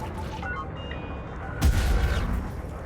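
Ship turrets firing in Elite Dangerous, a sudden booming burst of gunfire over a constant low engine hum, close and loud.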